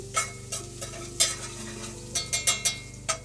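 Garlic frying in a pan, with a soft steady sizzle beneath repeated sharp scraping stirs of a utensil against the pan, close and unaccompanied by talk.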